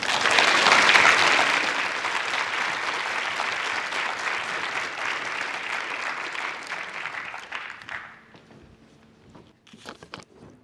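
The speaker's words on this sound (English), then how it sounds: "Please join me in a huge round of applause for Mr." A crowd at the Local Seafood Summit 2025 applauds Alex Alvarez: a loud, full round of clapping that holds steady, then tapers off and thins to a few scattered claps near the end.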